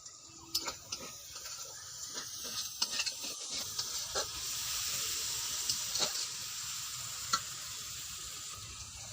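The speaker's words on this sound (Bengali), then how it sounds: "পেঁয়াজটা মোটামুটি ভাজা হয়ে গেছে" Onions frying in a pan for a village-style desi chicken curry, a soft continuous sizzle with intermittent scraping and stirring clicks, close and without talk.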